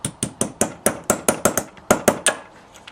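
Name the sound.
light hammer tapping out carburetor needle jet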